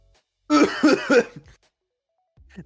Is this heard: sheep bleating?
no